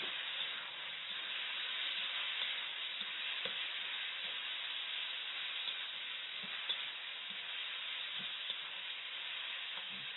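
Spicy pork and bamboo shoots stir-fry in a wok with oyster sauce and light soy sauce, making an even, unbroken hissing sizzle that stays steady and slightly muffled throughout.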